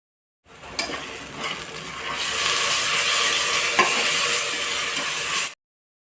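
Onions with ginger garlic paste frying in a pan while being stirred, a steady loud sizzle with scraping strokes of the spoon, close and continuous, no talk.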